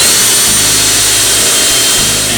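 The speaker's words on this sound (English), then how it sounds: "And now I endlessly push on my dull drill bit." Dull bit drilling into steel for a fabricated camper 2-inch hitch receiver, a steady loud power-drill grind with a scraping, rubbing edge that runs unbroken throughout.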